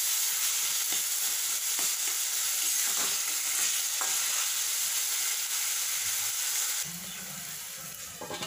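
Tomatoes with salt cook in a pan while being stirred, making a soft sizzle with scraping strokes. The sound stays close and steady, then drops to a quieter simmer near the end, with no voices.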